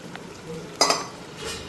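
Fish pieces dropped into a pan of simmering curry gravy, a brief clatter of a utensil against the pan followed by a soft bubbling sizzle, heard up close.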